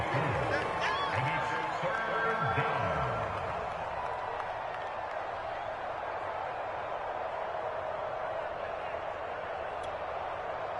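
A stadium crowd in a PS4 football video game cheers and roars steadily as a big third down approaches, a broad wash of noise under commentary that stays dense and even after a few seconds of talk at the start.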